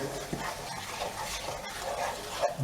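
Onion fries in a pan with spices, giving a steady soft sizzle with faint stirring scrapes, fairly quiet and continuous with no talking.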